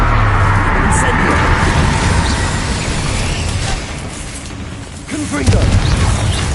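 The Incendio fire spell erupts in Hogwarts Legacy combat, a loud sustained roaring whoosh of flame with rumbling booms, amid continuous battle noise and a shouting voice.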